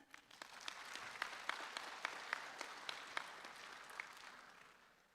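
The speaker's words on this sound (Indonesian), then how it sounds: "Boleh tepuk tangan?" At an Indonesian graduation ceremony, the crowd gives a round of applause, a fairly faint, distant patter of many hands with occasional crisp individual claps, gently swelling and then fading out.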